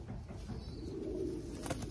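A racing pigeon coos softly, low, muffled and close, a steady throaty murmur over faint background rustle with no one talking.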